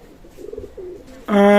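Pakistani teddy pigeons give a soft, low coo close by, followed by a loud, sustained, rising call at the end, with quiet talk in the background.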